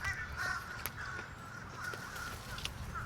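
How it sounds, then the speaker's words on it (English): A large flock of crows caws repeatedly around an outdoor spot in Hawaii, harsh calls overlapping at varying distances, some close and loud, over a steady background murmur. "there's literally 100 crows buzzing around me right now"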